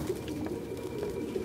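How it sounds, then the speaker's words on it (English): Pigeons in an apartment in Detroit: Become Human coo steadily, several overlapping low throaty calls forming a continuous murmur with no talk. "God, there's so many pigeons."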